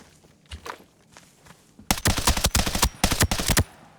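Heavy stomping footsteps in the shooter game Arena Breakout Infinite, arriving as a loud run of quick, thudding impacts in the second half after a few faint steps earlier.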